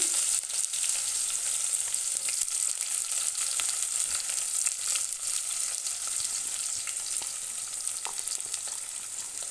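Mustard seeds and onion fry in hot oil, a bright, continuous crackling sizzle dotted with small pops, fairly loud and close, with no voices over it.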